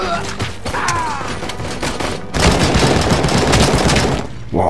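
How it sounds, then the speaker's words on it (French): A rifle in the video game RoboCop: Rogue City fires rapid, loud bursts of automatic fire, with a short pause between volleys and mechanical clanks around the shots. "Wow, on dirait un fusil de Call of Duty quoi."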